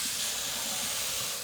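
Hot tap water pouring into a pan inside an oven, a steady broad hissing rush with no pauses, close and fairly loud.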